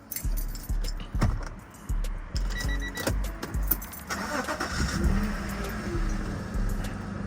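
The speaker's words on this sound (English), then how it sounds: "I'm gonna go ahead and start the car real quick" Keys jingle, then an Acura Legend engine cranks in short rhythmic bursts before catching and settling into a running idle, close by with no talking.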